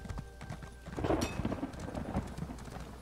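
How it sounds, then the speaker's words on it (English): Rapid clip-clopping hooves of a horse galloping in Elder Scrolls Online, a quick, even rhythm close by with faint game ambience behind it. "I can keep up with your horse, Jacob."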